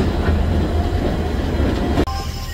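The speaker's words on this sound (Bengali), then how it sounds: "আমাদের ট্রেন এখন ঢুকছে হাওড়া স্টেশন" The Digha–Howrah Kandari Express pulls into Howrah station, a loud, steady rumble of rolling wagons and rail noise heard from inside the train, with a brief jolt near the end.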